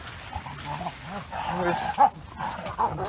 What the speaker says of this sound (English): Hey dogs, enough!